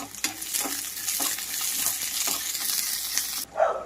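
Dried red chillies, shallots and curry leaves frying in hot oil with mustard seeds, a continuous close sizzle broken by repeated scrapes of a spoon stirring the pan, ending in a brief clatter.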